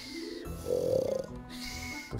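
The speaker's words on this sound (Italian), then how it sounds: "lei russa" A single rough, rattling snore drawn out over about half a second, close and fairly quiet, with a low steady hum around it.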